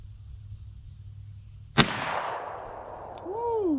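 A single AR-15 rifle shot cracks sharply out of a quiet outdoor background, followed by a rolling, fading echo, with a faint high whine afterward.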